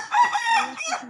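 A rooster crows once at a resort farmyard in Cox's Bazar, a loud, close, slightly hoarse call lasting about a second with a rising start and a drawn-out tail.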